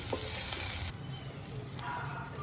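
Green chili, curry leaves, crushed garlic and ginger sauté in a pan for mushroom thoran, a bright sizzle with stirring scrapes that drops suddenly to a softer, steady frying crackle partway through.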